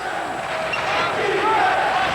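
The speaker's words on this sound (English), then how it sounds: "the Rutgers crowd calling for defense" A basketball arena crowd at Rutgers during a 1988–89 college game against Penn State, a steady rhythmic chant for defense with broad crowd noise under a commentator's voice.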